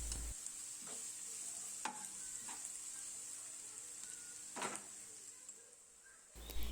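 Onion, ginger, garlic and green chillies frying in a pan for beef kabaliyath rice, a faint steady hiss broken by a few sharp spoon scrapes and stirs, close but quiet, with no voices.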